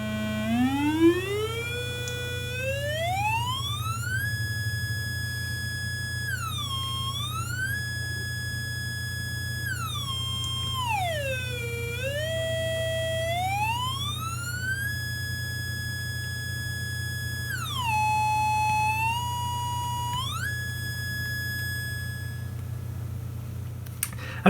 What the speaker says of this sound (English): sorry for all that time at the very high frequency pitch there